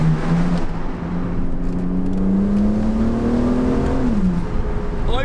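BMW Z4 30i sDrive roadster driven with the roof off, engine pulling steadily upward in pitch through a gear, then easing off near the end, loud and continuous with wind and road noise underneath.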